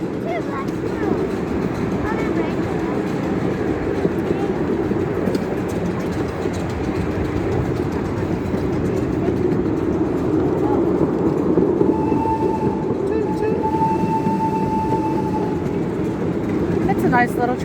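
A small amusement park train at Knoebels rumbles steadily along with a continuous clattering roll, close and sustained throughout, with faint voices at times.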